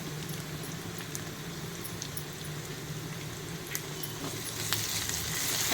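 Ginger-garlic paste frying with curry leaves in oil while preparing chicken fry for biryani, giving a steady, continuous sizzle close by with faint stirring scrapes, no talking.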